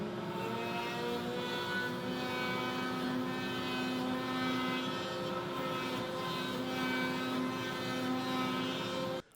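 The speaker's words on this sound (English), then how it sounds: "That's easy enough to do on the router as well using a roundover bit." A router fitted with a roundover bit runs steadily while rounding the edges of a wooden subwoofer box window brace, a continuous loud motor whine with sustained tonal hum and no talking, cutting off abruptly at the end.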